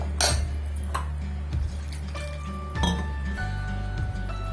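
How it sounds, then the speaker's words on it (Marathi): Dishes and a metal cooking pot clink and clatter as the pot is washed in a kitchen while Malvani fish curry is being made, with several sharp knocks and ringing tones over a steady low hum. "हे भांडं असं धुवून घ्यायचं"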